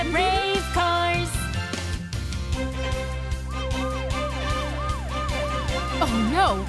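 A cartoon police car siren wails in a repeating rise-and-fall pattern over a bright music track, loud and close, starting partway through.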